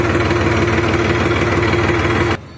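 A new Massey Ferguson 7235 tractor engine idles steadily and loudly close by, a constant low rumble with a humming tone, cutting off abruptly near the end.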